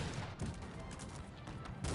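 Gunfire in Cossacks 3: Golden Age, a historical real-time strategy game, during the Raid on the Medway mission, comes as dense, continuous volleys of musket shots across the battlefield, and a voice talks over them in Ukrainian.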